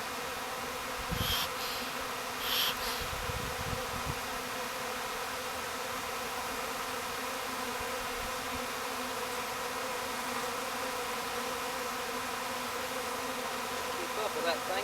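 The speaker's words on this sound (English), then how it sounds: "The mean Virginia bees." Honey bees drone in a continuous, dense hum at a bee tree cutout in Virginia, with a few brief louder buzzes as individual bees pass close by.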